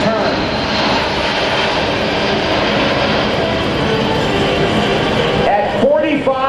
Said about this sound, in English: Look at this airplane coming by now